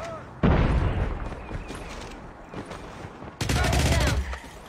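Gunfire in a battle royale video game: loud bursts of rapid shots, one at the start and another near the end, with scattered single shots between and a voice briefly exclaiming.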